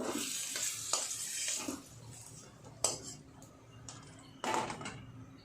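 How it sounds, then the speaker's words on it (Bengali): Vegetables fry in a pan after bitter gourd has been cooked. Scattered metallic clinks and scrapes of a spatula or spoon come over a faint background sizzle, with several sharper knocks spaced a second or so apart. "নিয়ে একইভাবে বাকি সবজিগুলোও আমি ভেজে নেব"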